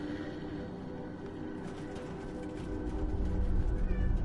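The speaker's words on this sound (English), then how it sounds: "Yes, Kitty, they hear you. Now be quiet." A house cat meows repeatedly, close and fairly clear, with low background hum and no talking.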